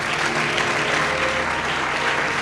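A large audience at a religious gathering claps continuously, a dense, steady wash of applause at even loudness with no pauses.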